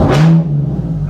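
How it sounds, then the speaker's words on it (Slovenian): A Ford Mustang Shelby GT350R sports car engine revs in one short loud burst that rises, then settles into a steady droning idle with a low hum. "Pa dajmo ga vseeno majčkeno poturirati."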